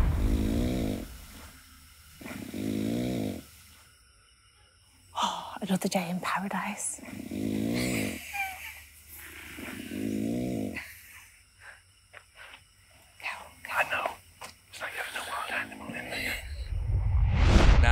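Snoring from a man sleeping in a shared camp, heard as several slow, rasping breaths in regular cycles, with people talking around and between them.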